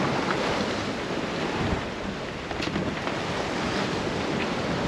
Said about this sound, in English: the waves definitely picked up a bit